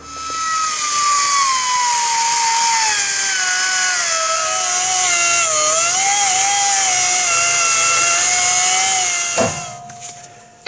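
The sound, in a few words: power tool cutting nuts on Chevy Equinox ball joint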